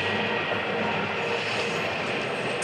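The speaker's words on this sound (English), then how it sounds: "Now I'm waking up to trains." A train rolling past at close range, a loud unbroken rumble of wheels and cars with a faint high squeal near the end, with no voices.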